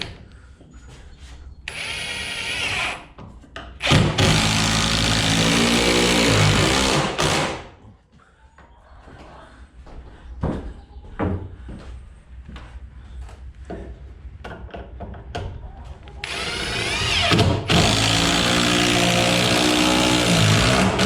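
Power drill driving 6-inch timber lock screws into stair framing for a tiny house or shed, whining loudly in long sustained runs that bog and stop, with quieter knocks and handling noises between the runs.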